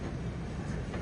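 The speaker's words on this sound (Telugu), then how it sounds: "ప్లాట్ఫామ్ నెంబర్ 5లోకి అయితే వచ్చింది మన ట్రైన్" Express train pulling into platform 5 at Vijayawada Junction, a steady low rumble of rolling wagons and rail noise filling the whole moment without a break, close and fairly even in level.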